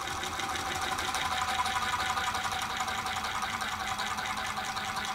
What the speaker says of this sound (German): Jawohl, alles aus und er läuft noch nach.